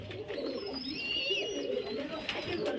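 Pigeons, sold for sport flying and kept in a loft, coo steadily at close range, with low soft calls running throughout and a few higher chirps above.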